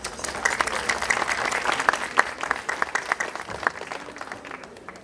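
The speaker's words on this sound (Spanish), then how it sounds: "Lo recibimos con fuertes aplausos." Steady applause from a crowd at a lecture event, dense clapping throughout with a few sharper claps standing out, gradually thinning toward the end.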